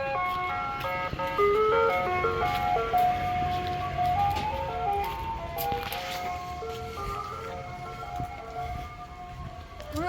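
An ice cream truck passes close by, its loud electronic chime melody ringing out steadily over a low road rumble, with faint voices in the background.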